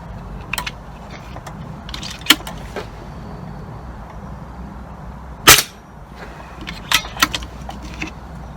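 Air rifle shots from an FX DRS ring out as sharp, separate cracks, with one loud close report standing above the others. Faint mechanical clicks and handling noise sit between the shots, with no talking.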